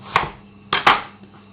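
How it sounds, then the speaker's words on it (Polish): A knife chops sharply on a cutting board, slicing red onion into strips, three quick close thuds in a short burst. "Zacznijmy od e, czerwonej cebulki. Kroję sobie paseczki."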